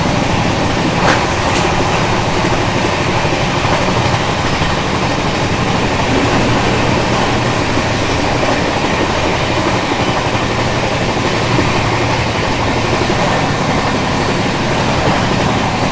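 The Kota Patna Express train runs on its rails with a continuous loud rumble and rattling clatter of wheels that holds steady throughout.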